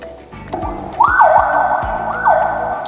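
A loud electronic siren on a rigid inflatable boat wails and yelps close by, rising and falling in repeated sweeps over a low rhythmic thumping.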